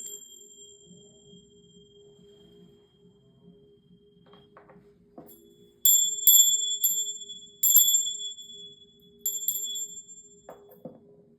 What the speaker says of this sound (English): you will hear 3 sounds and some bells